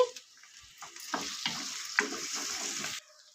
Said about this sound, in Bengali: এক চামচ আদা রসুন বাটা দিয়ে দিচ্ছি কেটে রাখা টমেটোটা দিয়ে দিচ্ছি